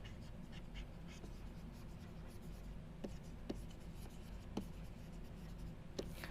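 Handwriting during a lecture, faint scratchy pen or chalk strokes over a steady low room hum, with a few sharper taps scattered through the quiet stretch.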